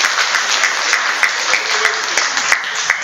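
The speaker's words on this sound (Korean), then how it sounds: "시장 박수로 좀 보내주시기 바랍니다." Steady applause from a seated audience sending off the mayor at an Incheon civic talk event, dense clapping holding even and loud throughout with a few sharper claps standing out.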